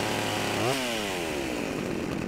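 A hillbilly enemy's chainsaw in the game Stubbs the Zombie snarls loudly, swooping up in a quick rev and then sliding down into a steady, close, rasping idle.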